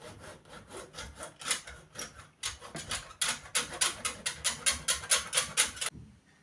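A handsaw cuts into a painted wooden door with steady back-and-forth strokes, the rasping rhythm quickening and growing louder toward the end before stopping.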